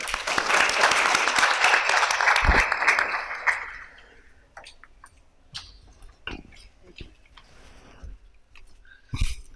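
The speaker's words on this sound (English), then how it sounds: "Ladies and gentlemen, a big round of applause for Dr. Shirin Mazari." Audience applause for Dr. Shirin Mazari at a panel discussion, a dense burst of clapping that fades after about four seconds into scattered claps and small room noises.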